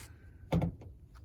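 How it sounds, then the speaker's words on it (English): A door from a 1958 Chevrolet two-door conversion project is shifted in a garage, giving one short, solid thud with a brief rattle, close by and alone. "I'm gonna move this door back out of the way."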